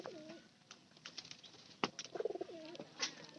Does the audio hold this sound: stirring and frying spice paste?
no